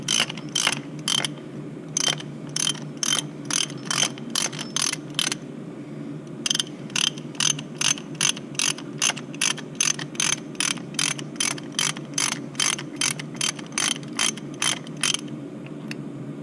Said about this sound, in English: I'll get the ratchet and see what it does